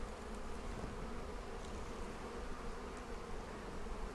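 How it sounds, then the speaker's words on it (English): Honeybees buzz steadily around an open hive during a pre-spring inspection, a dense continuous drone of many wings close by with no voices. "that bee is still wandering around doing its dance"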